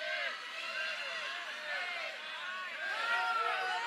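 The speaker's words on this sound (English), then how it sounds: "Creighton crowd counting her down" Roar of a Creighton crowd in an arena chanting a countdown for the server at a college volleyball semifinal against Penn State, loud and rhythmic throughout without a commentator over it.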